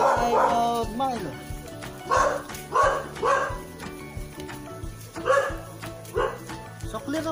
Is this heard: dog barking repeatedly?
yes